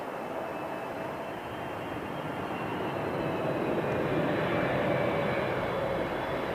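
A Qatar Airways Boeing 777 at London Heathrow Airport gives a steady, broad jet roar that swells slightly as it passes at moderate distance, with no talking.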